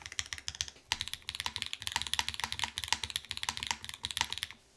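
Keystrokes patter steadily on a Keycult No.1/65 gasket-mounted mechanical keyboard, a dense run of close, muted clicks with a deeper thock from one heavier press.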